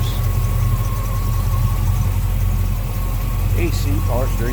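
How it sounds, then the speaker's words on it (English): A Chevrolet 350 small-block V8 with Edelbrock intake, carburetor and headers idles steadily in a 1955 Chevrolet 3100 pickup, a constant low rumble heard up close while a person talks over it. "So 350 small block Chev"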